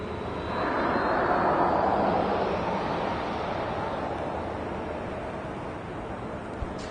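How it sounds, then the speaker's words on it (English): A Southwest Airlines Boeing 737-700 rolls for takeoff on runway 24 left at Los Angeles International Airport, its jet engines giving a broad, distant roar that swells and then slowly fades, mixed with wind noise. "that is Southwest Airlines Flight 2460 and the 737-700. Now rolling down, 24 left."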